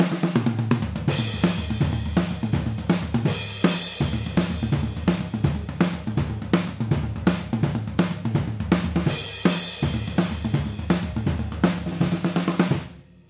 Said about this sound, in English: So have a listen to this simple tom groove.